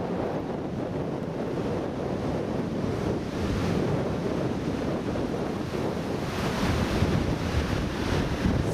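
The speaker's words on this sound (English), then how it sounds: "So, what we're looking at is Ocean Beach." Steady roar of Pacific Ocean surf at Ocean Beach, San Francisco, with wind buffeting the microphone throughout, a continuous broad wash with no voices.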